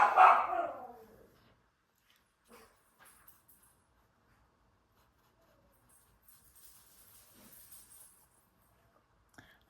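A single dog bark sounds outside at the start, fairly loud, followed by long quiet stretches with faint distant rustles and scattered soft noises.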